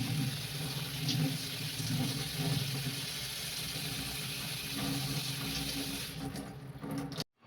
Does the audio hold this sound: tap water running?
yes